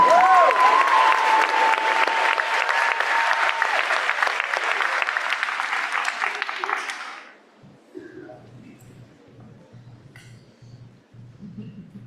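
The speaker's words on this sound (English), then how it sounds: "So let's give them a round of applause." An audience applauds at a school Thanksgiving program, loud sustained clapping with a few whoops for about seven seconds, then dying away to quiet room noise and faint murmurs.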